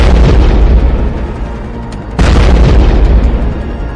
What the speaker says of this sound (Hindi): उसके गुंबद के पास होता है एक बड़ा धमाका